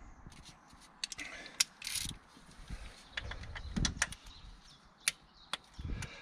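M6 water pump bolts being tightened to torque on an E34 Alpina B10 3.5, close ratcheting and metallic tool clicks in irregular bursts with some handling noise.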